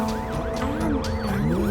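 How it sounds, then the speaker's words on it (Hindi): An ambulance siren wailing steadily in a repeating rising and falling pattern, loud and close, with no talk over it. "यहाँ पर एम्बुलेंस आ गई है।"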